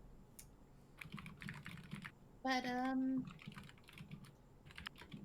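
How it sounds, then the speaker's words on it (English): Computer keyboard typing picked up in the background of an online voice chat during a tabletop roleplaying game session, light irregular key clicks under conversation, with a brief voice interjection partway through. "we can hear you typing"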